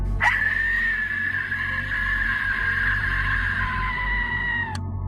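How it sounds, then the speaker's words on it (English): A single piercing, sustained screech from an Aztec death whistle wails for about four and a half seconds before cutting off sharply, loud over a low rumble. "It emits a sinister, haunting, and frankly terrifying screeching sound"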